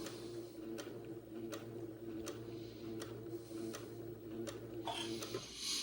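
A sewing machine top stitches a shirt for an Eton suit, running in a steady quiet hum with evenly spaced ticks of the needle throughout.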